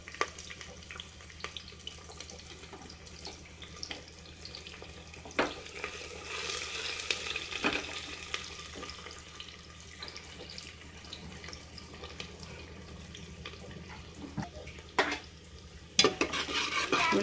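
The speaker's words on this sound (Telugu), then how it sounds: "ఉల్లిగడ్డ వేగుతుంటుంది." Onions fry in a pan while a paya and goat-head curry is prepared, a steady soft sizzle with occasional stirring clatters and utensil knocks close by.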